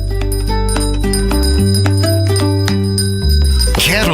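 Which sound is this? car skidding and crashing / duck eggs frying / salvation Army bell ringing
salvation Army bell ringing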